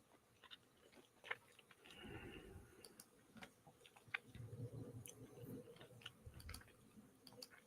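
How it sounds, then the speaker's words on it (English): Someone chewing satsuma segments close to the microphone, with soft wet munching bursts and small clicks scattered irregularly through a quiet room. "I'm eating some Satsuma segments. So if you hear me munching,"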